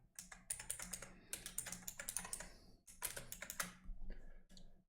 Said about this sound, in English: We can type the